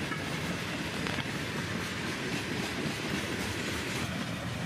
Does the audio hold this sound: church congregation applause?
no